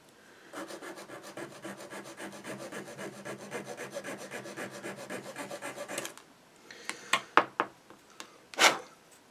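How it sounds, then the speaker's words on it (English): Steady rhythmic rasping of a file scraping back and forth across a resin base for several seconds, followed by a few sharper, separate scrapes close by. "a little bit of sanding to smooth that off, for which I will actually use a file"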